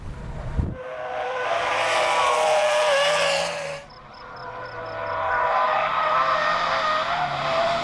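An all-wheel-drive car drifts in third gear on a high-speed entry, its tires squealing loud and close in long sustained screeches under a revving engine, easing briefly before building again.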